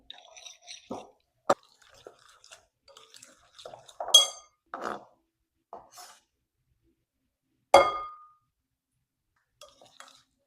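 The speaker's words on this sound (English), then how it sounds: "We have the cheese in and with the sour cream. Give that a stir" A spoon stirs cheese and sour cream in a bowl for a dill pickle dip, making sparse soft squishes and a few sharp clinks against the dish in an otherwise quiet room.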